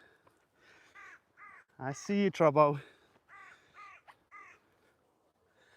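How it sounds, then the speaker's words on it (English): Territorial crows caw in a series of harsh calls, a louder overlapping burst in the middle with sparser single caws before and after, while a person speaks briefly. "So crows from another part of the area would not come over here."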